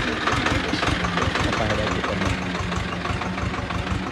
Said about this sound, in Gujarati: એનું ટ્રેક્ટર આવ્યું છે ફેરવા માટે